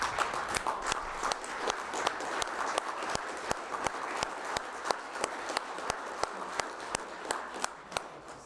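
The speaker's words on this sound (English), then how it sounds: "I'd also like to stand and give her a round of applause" At a city council meeting, a crowd applauds a retiring staff member. The sustained clapping is dense and close, with some sharp individual claps standing out, and it fades near the end.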